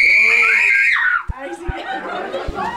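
A loud, shrill scream rises and falls, followed by a few sharp knocks and excited voices and laughter nearby.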